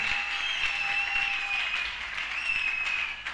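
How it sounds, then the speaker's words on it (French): A church congregation at a gospel service applauds and acclaims together, a sustained wash of clapping and cheering voices that stays fairly even for a few seconds, with no clear speech above it. "Qui acclame plus fort le nom de Jésus"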